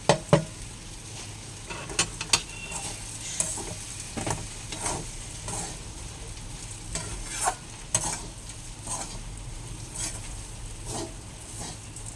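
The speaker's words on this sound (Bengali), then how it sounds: "এই শুকনো চিড়েগুলোই এর মধ্যে ঢেলে দেবো" Dry, unsoaked flattened rice is stir-fried in a pan, a continuous sizzle under repeated scraping strokes and light clicks of a spatula, close and steady with no talking.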